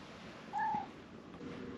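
A pet cat in a car repair shop, working on a 2005-08 Audi A4 B7 2.0 Turbo FSI, gives a single short meow, near and clear over a low steady shop hum.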